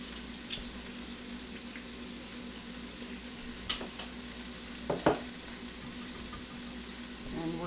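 Garlic cloves, diced, sizzle steadily in a frying pan just emptied of chicken, with a soft continuous crackle and a few louder clinks of stirring near the end.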